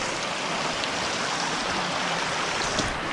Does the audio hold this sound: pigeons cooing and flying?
no